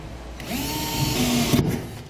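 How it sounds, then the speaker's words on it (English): A power drill whirs up close for about a second, drilling a pilot hole in the bed of a 2012 Ram 3500 truck, its motor pitch rising then holding steady before it stops. "So I'm just going to drill a pilot hole to start right in the center."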